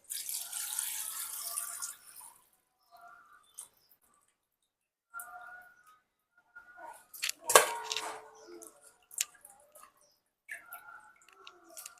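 Raw chicken pieces being washed in a kitchen sink under a running tap, with a burst of gushing water at the start, then intermittent splashes, drips and light clinks of the bowl and pieces.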